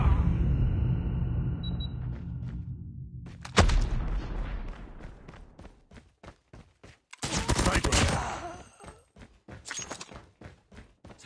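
A frag grenade blows up in Call of Duty Mobile multiplayer: a rumbling tail fades out, then a sharp boom hits, followed by a second louder broadband blast and scattered gunshots.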